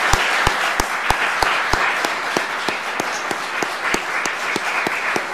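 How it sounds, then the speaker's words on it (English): A room of people applauds to honor Jerry Braun at an award ceremony, steady dense clapping mixed with a few sharp, louder individual claps standing out near the front, continuing without a pause. "let's honor him right now with a round of applause"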